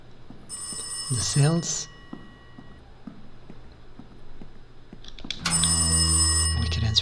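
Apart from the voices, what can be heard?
telephone ringing in the video game Rise of Insanity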